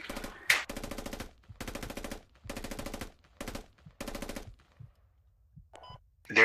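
Bursts of RPK machine gun fire in the video game Squad, five or six sustained loud volleys separated by brief pauses, close and sharp, with a few faint distant thumps trailing after.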